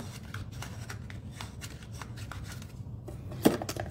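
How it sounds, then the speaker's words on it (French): A bone folder is rubbed along the glued bottom of a patterned paper bag, making soft, repeated papery scraping strokes, close and quiet, with a sharper crisp sound near the end. "je passe mon plioir en os dans le fond du sac, pour être sûr que ça soit bien collé"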